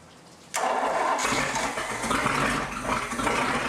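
An engine cranks and fires up on its first start for burn-in, settling into a loud, steady running roar right after the start.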